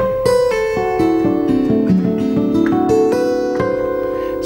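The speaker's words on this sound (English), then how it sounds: "Now, we can also do hammer-ons and pull-offs" Acoustic guitar plays a flowing run of hammer-ons and pull-offs, notes sounding in quick succession with picked accents, close and clear with no voice.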